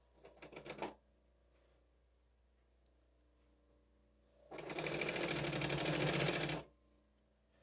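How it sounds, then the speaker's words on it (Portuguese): A sewing machine stitches interfacing onto curtain fabric in two runs: a brief burst of rapid mechanical clatter, a pause, then a longer steady run, close and fairly quiet. "Nós estamos costurando a entretela em uma das duas partes, dos dois lados do tecido aqui"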